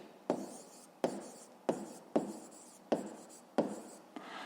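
A pen writes on paper during a fifth-grade maths exercise: six distinct scratchy strokes in a steady rhythm, close and clear, with no talking.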